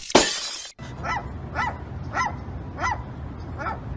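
After a sharp crash at the start, a dog gives five evenly spaced, fairly close yips or barks, about one every 0.6 seconds, with no talk over them.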